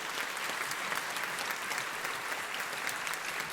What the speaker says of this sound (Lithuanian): Jūsų plojimai.